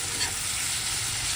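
Karela and chana dal with masala fry steadily in a pan, giving a continuous, even sizzle at close range with no talk over it.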